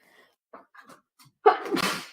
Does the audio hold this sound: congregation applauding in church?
no